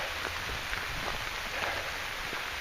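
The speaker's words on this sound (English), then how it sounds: "Rainy day here on the mountain today." Steady rain falls on a mountainside during a dog walk, a dense, even hiss of drops that holds constant and moderately loud with no voices throughout.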